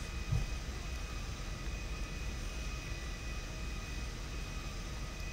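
A fixed-wing airplane in GTA Online drones steadily throughout, a broad continuous engine roar with no talk over it.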